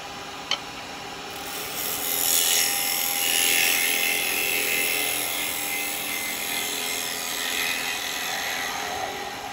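Wood lathe hollowing a yew bowl, the gouge cutting with a steady bright hiss and whir that swells and eases slightly, alone and close with a single sharp tick near the start.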